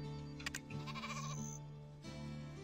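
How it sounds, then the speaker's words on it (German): Sheep bleat in the video game Black Desert Online: a few short, wavering bleats close by, over a steady hum of background music and ambience. "Ach, sind die süß, die Schafe."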